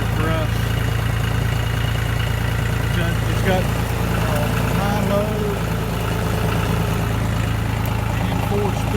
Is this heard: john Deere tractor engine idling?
yes